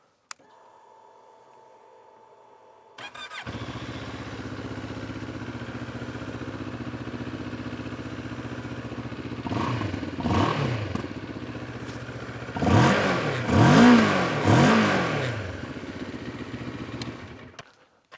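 Moto Morini X-Cape motorcycle engine cranks and fires after a quiet start, settles into a steady idle, then gets several sharp throttle blips rising and falling in pitch before cutting off, close and fairly loud.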